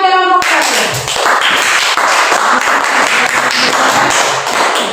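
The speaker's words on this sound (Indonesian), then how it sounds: "tepuk tangan buat kelompok 1" Classroom students clap for a group of classmates during an Islamic studies lesson, a dense burst of close, steady applause that starts abruptly after a brief tone and carries on to the end.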